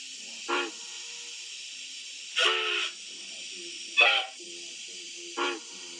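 Steam whistle sound from a Bachmann EZ App for an ALCo 2-6-0 Mogul model train: four short hissing whistle blasts spread across several seconds over a constant electronic hiss, moderately loud, no voices.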